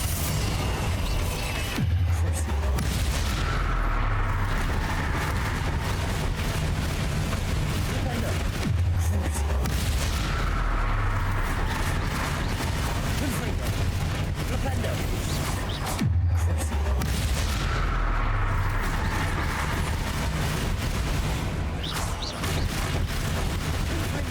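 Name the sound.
Confringo and Incendio spell blasts in Hogwarts Legacy video game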